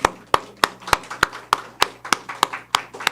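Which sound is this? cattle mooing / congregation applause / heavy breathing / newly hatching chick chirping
congregation applause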